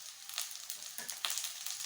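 Green peas fry with onions that have already browned in a pan, a soft, steady sizzling hiss with a few small crackles and a light stir, heard quietly with no voices.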